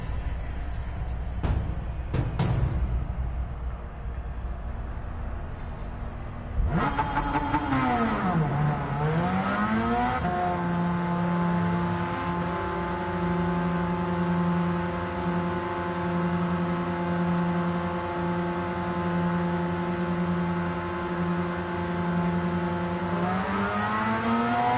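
GT300 race cars in qualifying at Fuji, engines droning steadily with a sweeping pitch dip and climb as a car accelerates and shifts, sustained and fairly loud after an abrupt start, with no talking.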